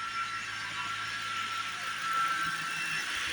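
A car engine idles steadily close by after a new alternator has been fitted, giving an even hum with a broad whine above it that holds constant throughout.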